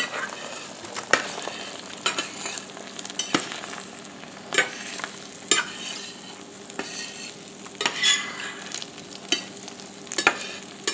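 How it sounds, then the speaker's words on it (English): Scrambled eggs sizzle steadily in a frying pan while a utensil pushes them toward the center, giving sharp scraping clicks at irregular intervals over the constant frying hiss. "I let it set for just a minute or so, and then I start pushing the egg to the center"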